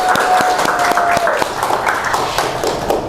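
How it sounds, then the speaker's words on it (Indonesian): An audience at a teaching-practice performance event at Politeknik Negeri Padang claps in a dense, steady round of applause, fairly loud and sustained, with a faint tone running underneath. "Boleh kita kasih aplaus sekali lagi?"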